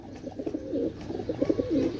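Pigeons of a high-quality Pakistani breed coo close by in soft, rolling bursts, several overlapping calls with a steady murmur beneath and no talking.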